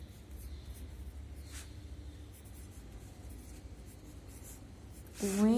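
Writing by hand on a classroom board or page during a Hindi lesson, a faint, steady scratching heard close up over quiet room hiss, followed by a short louder squeak at the end.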